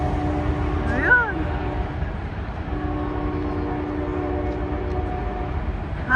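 A long train rolls past a crowded park on a Sunday, its steady rumble filling the scene as a brief wavering horn sounds near the start, with people talking over it.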